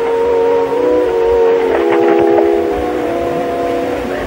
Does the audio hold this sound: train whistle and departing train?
yes